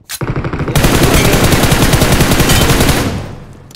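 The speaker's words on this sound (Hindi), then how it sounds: "मैं कैसे M4 से गिराता हूँ देखिए" An M4 rifle fires in the BGMI mobile battle royale game as one loud, continuous automatic burst of rapid shots lasting about three seconds before trailing off, with no talking.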